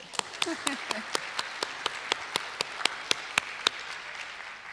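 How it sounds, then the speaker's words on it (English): An audience at a county artist-of-the-year award event claps in a steady, evenly spaced rhythm of distinct claps, fairly close and moderate in volume, with a voice briefly heard near the start. "let's clap for him anyway."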